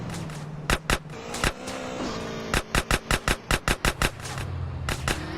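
Rapid bursts of gunfire in GTA: San Andreas, loud, sharp shots in several quick clusters, a run of about eight evenly spaced shots in the middle, over a steady game soundtrack and engine-like hum.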